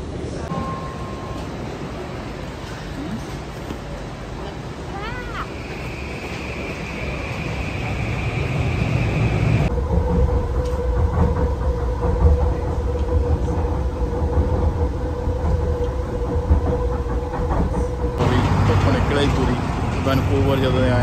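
Rumble and rattle inside a moving Vancouver Expo Line SkyTrain car on a rainy day: steady loud wheel and motor drone, shifting tones as the train speeds up, and faint chatter from passengers around.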